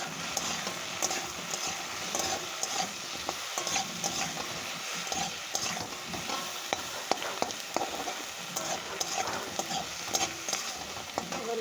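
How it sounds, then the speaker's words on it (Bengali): Chopped tomato and turmeric fry steadily in a pan, with a continuous close sizzle broken by repeated scraping and clattering as a spatula stirs them, heard alone without voices. "টমেটো কুচি যা তো দিয়ে দিচ্ছি, এবার দিয়ে দেবো হলুদটা।"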